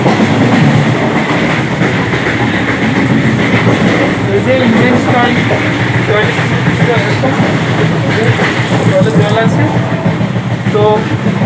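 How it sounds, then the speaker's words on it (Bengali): Steady rumble of a train running at high speed, with rhythmic clacking wheels and occasional squeals, continuous and loud throughout, with faint voices underneath. "ট্রেনটি একবার স্পিডটি দেখুন অসাধারণ স্পিডে কিন্তু ট্রেনটি চলছে"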